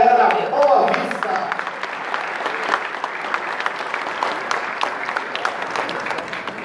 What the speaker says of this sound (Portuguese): Uma salva de palmas aí para a galera da Boa Vista